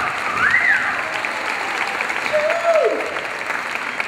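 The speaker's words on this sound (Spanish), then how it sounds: "aplauso para ellos, claro que sí" An audience at a mariachi gala in Culiacán applauds Mariachi Los Toros: a steady wash of clapping holds throughout, with a couple of shrill whistles rising and falling above it.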